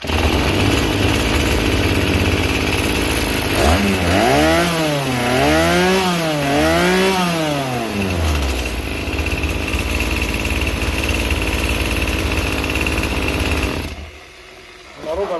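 A small carburetor engine runs after being started, a loud buzzing whine that revs up and down in rapid rising and falling sweeps for several seconds, then settles to a steady drone before briefly dropping off near the end.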